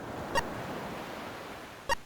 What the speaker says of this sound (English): Sound effect for a pier area in a port town.